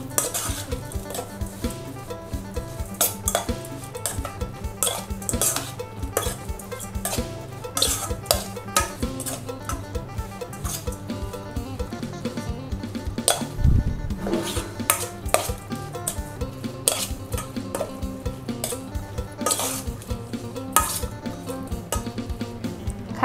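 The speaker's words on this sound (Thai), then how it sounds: "ต่อไปก็คนให้เข้ากันนะคะ" Raw beef larb (koi) with toasted rice powder and ground chili being stirred in a bowl. A steady run of close, rapid utensil clinks and scrapes continues throughout, with no talking.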